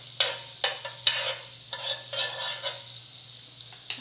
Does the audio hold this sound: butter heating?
yes